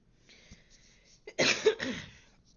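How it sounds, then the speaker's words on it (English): A single harsh cough bursts out close to the microphone after a quiet moment, followed by a brief rough throat-clearing tail. "I'm doing my best not to cough in the microphone."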